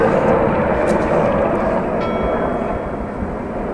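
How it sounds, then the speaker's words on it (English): A helicopter passes overhead outdoors during a Ford F-150 taillight installation, a loud steady broadband rotor and engine roar that holds throughout and eases slightly toward the end. "Wait for the helicopter to go by."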